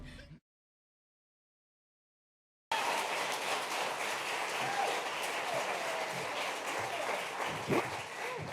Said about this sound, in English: That was such a nice round of clapping.